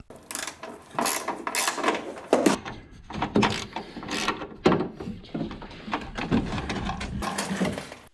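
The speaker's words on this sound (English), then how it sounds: "I'm just using one hand to operate the ratchet and the other to support the strut until the bolt comes out." A hand ratchet turns a strut bolt loose on a 2007 Chevy Equinox, giving repeated clicking, grinding strokes in uneven bursts, fairly close but low in level, with no voices.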